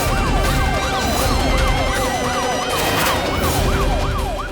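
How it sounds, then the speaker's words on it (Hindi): A police siren wails in a steady repeating up-and-down pattern, loud and continuous, with traffic rumble underneath and no talking. "शायद पुलिस की सायरन की भी आवाज आ रही होगी।"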